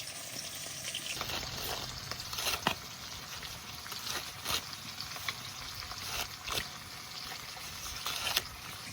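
Hilsa fish frying in oil in a pan, giving a continuous crackling sizzle with scattered sharper pops and spatters over the whole stretch; nobody speaks.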